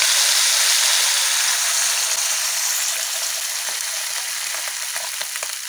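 Water poured into a rohu fish curry with drumstick stems bubbling in a pan raises a loud, steady hissing sizzle that eases slightly over several seconds.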